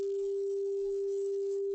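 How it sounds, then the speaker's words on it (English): A steady pure sine tone at 396 Hz, the solfeggio frequency, holds unchanged and alone at moderate level for the whole short span. "So that's the frequency of 396 Hertz."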